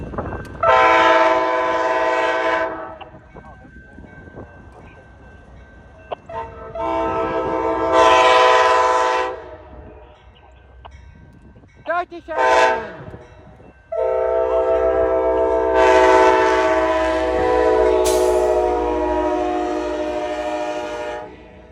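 An Amtrak P42DC locomotive leading the Heartland Flyer passenger train passes through Fort, sounding loud, close horn blasts in several long bursts with a short toot between them, over steady rumble and rail noise.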